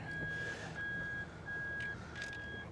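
A vehicle reverses into a garage, its backup alarm sounding a steady series of four or five loud, evenly spaced electronic beeps over a low engine hum.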